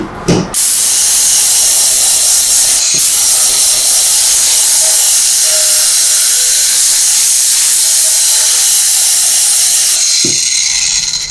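A Tornador Max air-powered cleaning gun sprays aerosol detailing chemical onto the interior plastics of a vehicle, giving a steady loud hiss that runs almost the whole time, with brief clicks as the trigger starts and stops.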